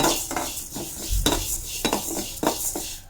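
Moong dal and cashews dry-roasting in a pan, with a metal spoon scraping and clinking against the pan in uneven strokes over a faint sizzle, close and clear.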